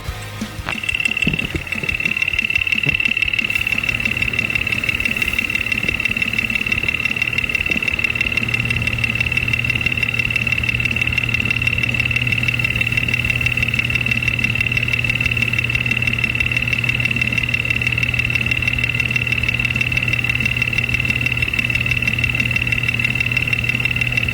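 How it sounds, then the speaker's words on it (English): An engine idles loudly and steadily, with a persistent high whine and a rhythmic mechanical knocking from a noisy number 5 cylinder throughout, nearby and unbroken. "Number 5 cylinder is quite loud."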